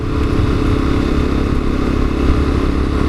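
Lexmoto Assault motorcycle ridden at around 30 mph after four years stored unused, its engine droning steadily and loudly with road and wind rumble throughout, no pauses.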